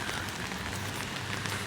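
Steady rain patters on a house roof, a dense, even wash of drops with no pauses, close and moderately loud, no voices.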